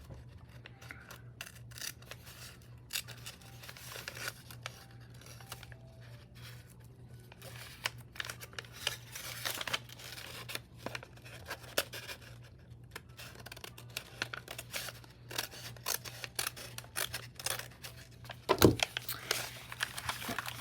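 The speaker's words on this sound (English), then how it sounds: "go up against the long part, and just cut right down" Scissors cut down the long side of a paper craft bag being made into a shabby lace altered bag with flip-down pockets. Steady close snipping and paper rustle run throughout, with one louder thump near the end.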